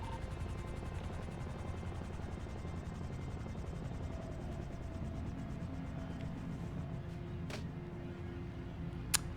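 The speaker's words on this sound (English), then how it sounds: "Helicopter coming towards somewhere. I hear it getting closer." In a roleplay video game, a helicopter's steady rotor thump and engine drone fill the scene continuously, fairly loud and unbroken, with a faint click near the end.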